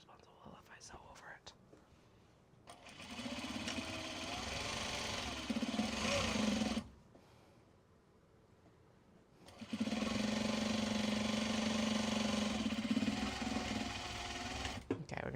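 Close, steady sewing machine stitching on Japanese fabric for Kato bags, running in two long bursts separated by a short pause, with faint whispery talk beneath.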